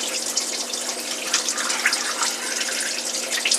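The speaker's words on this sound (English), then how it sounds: "that little pump to drain the water" A small pump drains a Panda compact washer in an off-grid tiny house, giving a steady rushing and splashing flow of water with faint drips on top, continuous and close.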